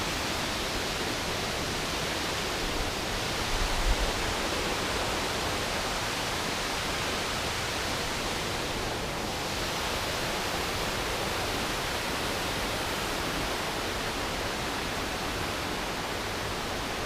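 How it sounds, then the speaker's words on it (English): A waterfall on the way up Helvellyn pours in a steady, dense rushing roar that stays close and constant throughout, with no voices over it. "Found the waterfall!"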